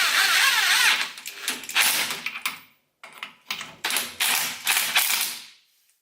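A ratchet fitted with a 19mm socket clicks back and forth on drum brake parts of a Ford Fiesta Mk6, bursts of rapid close ratcheting separated by short pauses.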